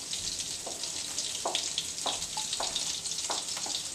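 Finely chopped shallots fry in melted butter over low heat, giving a steady close sizzle with scattered small pops and crackles throughout, with no voices.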